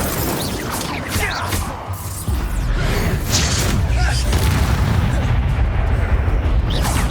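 Incendio fire spell cast in Hogwarts Legacy, a dense roaring burst of fiery game effects with heavy low rumble that swells and holds for several seconds, mixed with a talking voice.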